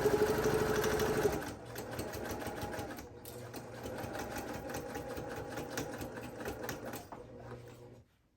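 Sewing machine stitching a seam on a washable wet bag, a close steady mechanical whirring run that pauses briefly and restarts, with a voice talking faintly underneath.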